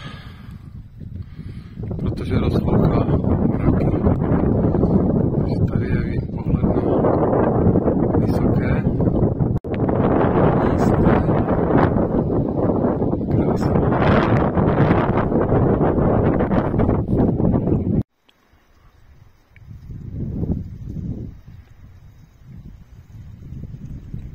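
Strong wind buffets the microphone in a long, steady roar on a winter mountain crossing in the Malá Fatra, then drops off abruptly, leaving quieter gusts and a person talking.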